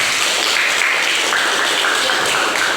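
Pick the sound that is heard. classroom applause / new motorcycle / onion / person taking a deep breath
classroom applause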